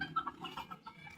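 A backyard rooster kept for slaughter gives a quick series of soft, faint clucks and murmurs, irregular and brief, with no talk over them.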